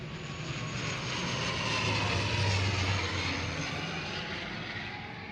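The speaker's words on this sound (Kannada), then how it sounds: "ಜನ ಮಾತಾಡೋಕ್ಕಾಗಲ್ಲ ಫ್ಲೈಟ್ ಹೋಗ್ತಾರೆ" A large airplane passing close overhead makes a loud, continuous engine roar that swells to a peak midway and then eases slightly, with no voices.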